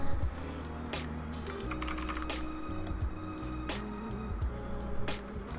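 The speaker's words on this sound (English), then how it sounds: "I'm just typing the first names that pop to my head." Keys clack on a computer keyboard as someone types in Roblox Studio, an irregular run of close, crisp taps over a low background hum.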